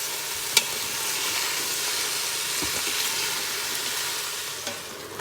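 Leeks sautéing in a pot for vegan potato leek soup, a continuous even sizzle close by with an occasional light tap of a spoon.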